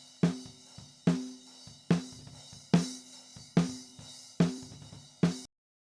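A snare drum top miked with a Shure SM57: seven sharp, bright cracks at an even, steady pace, each with a short ringing tail and faint hits between.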